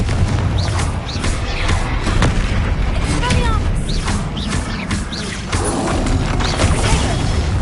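Confringo blasting spells exploding in rapid succession during Hogwarts Legacy combat, booming blasts layered over dense game music and effects with shouted spell casts mixed in.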